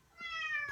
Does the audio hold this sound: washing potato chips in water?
no